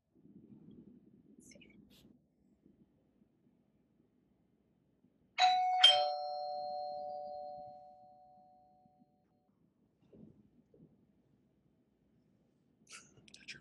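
A doorbell chime played from a phone speaker, a single ding-dong that rings out clearly and fades over a few seconds, set between quiet stretches with faint murmuring.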